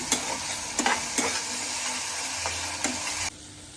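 Onion and garlic frying in a pan for a Malabar spinach stir-fry, with a steady loud sizzle and several scraping spoon strokes through the mixture before the sound abruptly drops.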